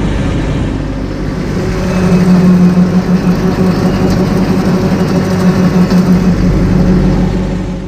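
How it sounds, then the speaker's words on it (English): Tractor engine held at 2000 RPM driving a brush hog, a loud steady low rumble with a constant droning hum that swells slightly midway, close and continuous with no talking. "Test 4, I left the engine RPM at 2000."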